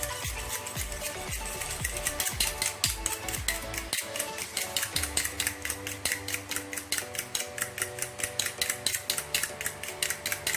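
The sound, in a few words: beating an egg with a utensil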